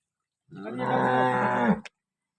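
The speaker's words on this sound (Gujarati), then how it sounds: "તમામ લોકલ ગાય દસ પ્લસની ગાયો મળી જશે" A local cow gives one loud, drawn-out moo lasting over a second, close by, alone and followed by silence.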